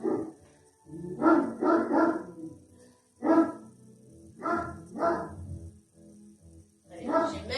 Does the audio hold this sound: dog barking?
yes